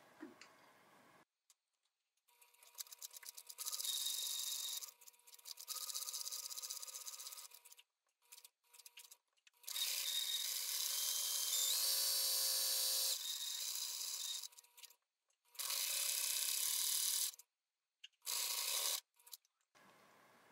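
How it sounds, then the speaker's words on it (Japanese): Sewing machine topstitching the sides and hem of a doll-sized apron dress skirt, running in several separate bursts of rapid, even stitching with short pauses between them, close up and alone. "表から押さえミシンをしていきます。"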